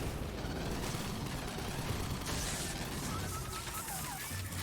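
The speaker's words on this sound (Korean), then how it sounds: "폭발." An explosion in the game Aliens: Fireteam Elite, a dense crashing blast amid sustained noisy gunfire and chaotic combat, loud and continuous throughout without clear pauses.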